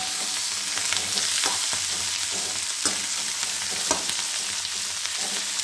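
Chopped cherry tomatoes hit a pan of frying onion stalks, giving a loud, continuous close-up sizzle broken by a few sharp spatula scrapes and stirring knocks, with no voices.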